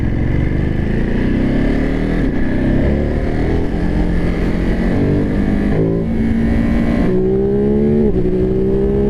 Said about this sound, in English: we're going to work on our acceleration. See how this bike feels for acceleration